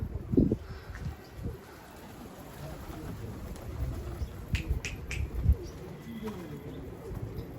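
Pigeons cooing softly at a home loft, with scattered flutters and a few brief sharp wing claps, under faint outdoor background noise.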